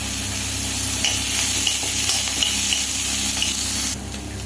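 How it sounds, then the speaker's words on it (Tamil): Oil sizzles and crackles steadily as chana dal fries in a pan, a close, continuous hiss with occasional light pops. "கடலைப்பருப்பு எண்ணெயில் பொரிய விடணும்."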